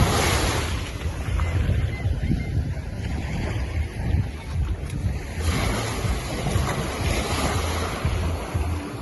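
Ocean surf along the coast, heard from aboard a moving boat, a steady close roar of waves and rushing water with heavy wind buffeting the microphone throughout.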